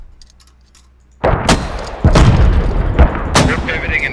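Mortar fire in the video game Squad: after a quiet stretch, several loud booming launches ring out in an irregular series, each with a sharp crack and lingering rumble.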